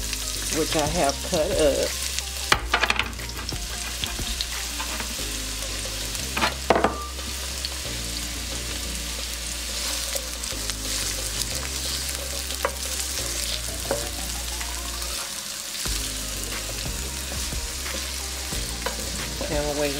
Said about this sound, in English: now I am going to saute my onions